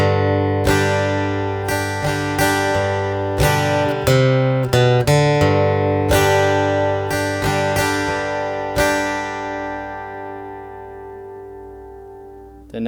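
Acoustic guitar plays the opening two sections of a song, strummed chords and picked notes in a steady rhythm, close and clear, ending on a long ringing chord that fades out.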